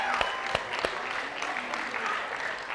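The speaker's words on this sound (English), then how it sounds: "A quick round of applause for all of you and all your teachers." Brief round of applause from a school audience of eighth-grade students and their teachers at a class meeting, with quick claps rising over a steady wash of clapping and murmured talk underneath.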